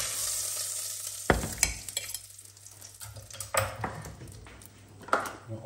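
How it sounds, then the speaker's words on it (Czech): Chicken frying in a pan, heard close as a soft sizzle broken by loud clanks and scrapes of a utensil turning the pieces against the metal, no talking. "Takhle to otočím a opejkám z druhé strany."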